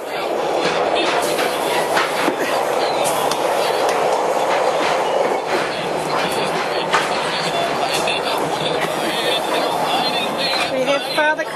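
Steady rumbling rattle of a decorated carriage in a train decorating competition rolling along the rails, with rhythmic clatter throughout and people talking over it.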